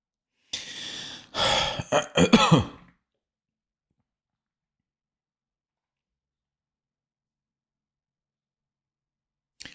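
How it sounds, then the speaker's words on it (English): A man at a chess stream who has been unwell gives a short burst of coughs and throat-clearing, fairly close, followed by long silence. "still coughing"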